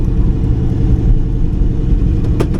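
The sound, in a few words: old street car engine idling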